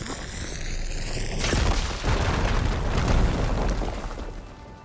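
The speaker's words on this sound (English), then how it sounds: "Should be able to blow up that fire gleam." A fire gleam canister blows up in Horizon Forbidden West, a loud broadband boom that rolls into a sustained, crackling rumble lasting several seconds before tapering off.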